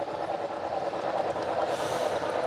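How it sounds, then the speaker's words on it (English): A model train on a festive holiday hobby layout rolls past with a steady, continuous rushing hum and faint rail noise, holding an even level throughout. "Here's a train coming back where you saw earlier."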